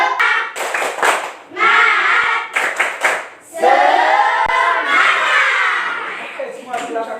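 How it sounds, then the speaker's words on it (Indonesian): Students standing in a classroom perform a patterned spirit clap, rhythmic bursts of hand claps mixed with children chanting and shouting in unison, loud and close. "Tepuk semangat."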